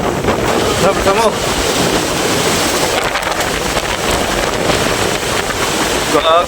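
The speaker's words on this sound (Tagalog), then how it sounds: "Parating na yung malalaking alon." Big ocean waves pounding during Typhoon Uwan, a loud, continuous roar of surf and battering wind on the microphone, unbroken and close, with a few brief voices half-buried beneath it.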